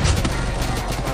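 Shotgun gunfire during a 4v4 video game shootout, a brief dense burst of booming shots layered together, loud and continuous for about a second.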